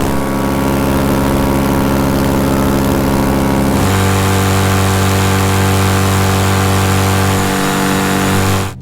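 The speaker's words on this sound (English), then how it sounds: "at full power, the engines sound about the same. They're different tones, but the loudness, intensity level is pretty similar" Two-stroke and four-stroke aircraft engines run at full power, their propellers adding to a loud, sustained droning roar that shifts to a different tone partway through, continuous and close with no voices.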